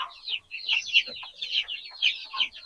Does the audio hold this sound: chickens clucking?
yes